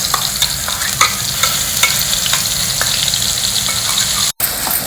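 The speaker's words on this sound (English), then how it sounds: "Fry this masala paste in the ghee for a few minutes" Ground masala paste fries in hot ghee with cumin seeds, a loud, dense, continuous sizzle with light stirring clicks. It cuts out briefly near the end.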